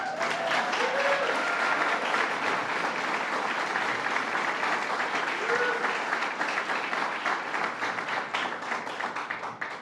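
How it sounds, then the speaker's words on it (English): An audience at an outdoor Earth Day ceremony in Kingston gives a steady round of applause, dense clapping that holds evenly for about ten seconds and then begins to thin toward the end, moderately distant. "You could not give a round of applause for Earth Day."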